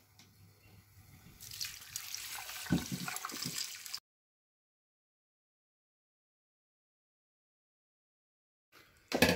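Water pours from a jug into a cooking pot of mutton yakhni pulao with bay leaves, a steady splashing rush lasting a few seconds before silence, then a brief burst of noise at the end.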